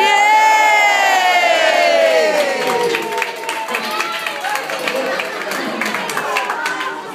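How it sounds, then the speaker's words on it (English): A crowd cheers and whoops loudly, with excited shouting and some clapping, sustained throughout before easing slightly but continuing. "Let's all have a big cheer, Ben and Eva."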